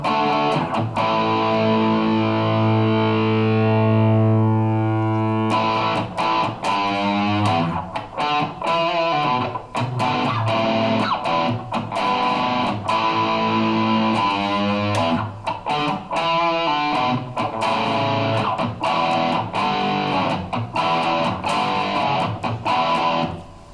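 Electric guitar through a VHT Special 6 Ultra head on its low output setting, playing dense distorted chords and riffs continuously for the whole stretch, full and heavily saturated with no talking.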